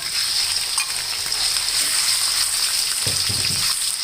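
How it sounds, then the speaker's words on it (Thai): Sliced pork hits a pan of browned garlic and fries with a loud, steady sizzle, with a soft thump and stirring noise near the end. "ใส่เนื้อหมูค่ะที่เราหั่นไว้นะคะ ลงไปเลยค่ะ"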